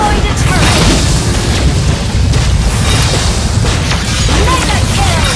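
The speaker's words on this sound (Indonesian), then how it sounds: "Your team destroyed a turret!" A turret being destroyed in a mobile multiplayer battle game: a dense, loud booming explosion and crashing burst that fills the whole stretch, with game effects layered over it.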